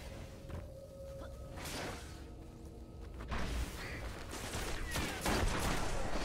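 Grenade blast and gunfire in the shooter game Destiny, Crucible multiplayer: a cluster of sharp shots and thuds, moderately loud, with a heavier burst late, under a busy game soundscape.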